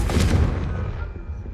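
A Confringo fire spell blast in the Hogwarts Legacy video game erupts as a loud, dense burst that rumbles at close range and then slowly fades, with no talk.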